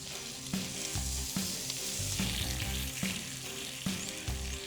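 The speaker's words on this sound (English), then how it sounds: "So I've heated a skillet, and I'll just add a few strips of bacon" A few bacon strips sizzle in a heated skillet for a classic BLT, a continuous crackling fry with soft pops and a low periodic rumble underneath, close and with no voices.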